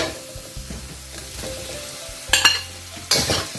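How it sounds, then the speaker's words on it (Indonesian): Garlic and dry ingredients are sautéed in a pan with oil, giving a quiet sizzle under a low rumble, broken by two bursts of louder scraping and clattering as the pan is stirred. "Kita lanjut tumis ya."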